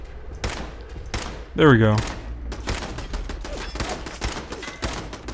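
Repeated gunshots from a firearm in Fallout 4, fired in a rapid burst with sharp broadband cracks, loud and close amid game background noise, with someone talking briefly over them.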